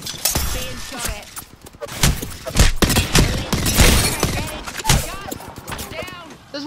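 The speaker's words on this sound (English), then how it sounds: "Being shot at." Gunfire in Apex Legends comes as sharp cracks and scattered bursts with shattering impacts, loud and up close, while a voice talks over the shooting.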